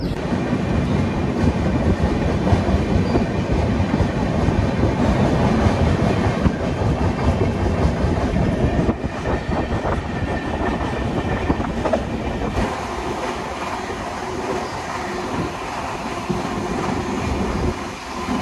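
The 12814 Steel Express from Tatanagar to Howrah rumbles steadily along the rails, a loud continuous roar with rattling wagons and clickety-clack from close by, the tone shifting slightly partway through.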